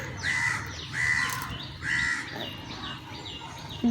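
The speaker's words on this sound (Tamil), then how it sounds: "எங்கள் வீட்டுக்கு டெய்லி ரெகுலராக வர காக்கா வந்து சாப்பாடு கேட்குது" A crow caws three times in a slow, evenly spaced series, loud and close, over faint background noise.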